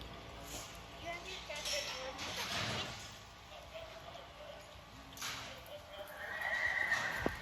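A horse at a team roping jackpot snorts and whinnies with hooves thudding on the arena dirt, bursts of close, loud activity alongside faint clinks and background voices.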